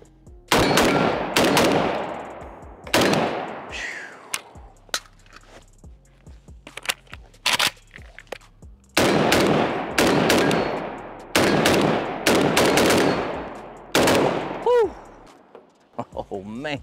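Riley Defense Krink rifle firing loud, sharp shots in several bursts and spaced single rounds with heavy muzzle blast, each crack ringing out and decaying, with short pauses between strings and a voice briefly heard between shots.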